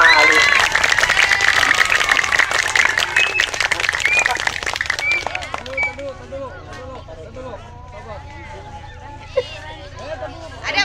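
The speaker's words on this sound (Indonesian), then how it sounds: "beri tepuk tangan 3 kali ya" Audience at a Saka Wira Kartika scout camp event in North Jakarta claps and cheers loudly over crowd babble, the applause fading after about six seconds into scattered chatter and voices.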